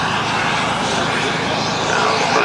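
A model aircraft engine drones steadily at an outdoor model air show, a continuous buzzing roar that stays loud and close throughout with no break.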